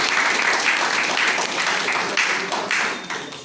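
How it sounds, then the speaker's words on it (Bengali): A dense, steady wash of applause from the audience at a Vestige business meeting in West Bengal, honouring top earners. It holds loud and continuous throughout, with a slight dip near the end. "এনাদের জন্য একটা জোরে হাত তালি।"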